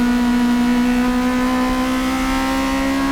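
Toyota AE86 Hachiroku race cars from SS Works, Car Factory Ai and Kaneko drive hard in a circuit race, making a loud, steady, high engine drone with a strong tonal whine, close and unbroken and free of talk.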